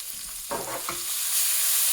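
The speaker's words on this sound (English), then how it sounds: "sounds like that meat is about ready to be taken out" Meat for red beans and rice sizzles and fries in a pot, with a steady hiss building louder toward the end and a couple of brief stirring scrapes early on, no talking.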